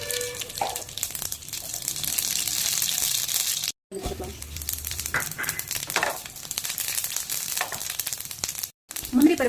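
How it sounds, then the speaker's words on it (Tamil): Mustard seeds frying in hot oil for rava idli, a close steady crackling sizzle with small pops throughout, under quiet background kitchen noise. "காஞ்சதும் கடுகு கொஞ்சம் போட்டுக்கலாம்."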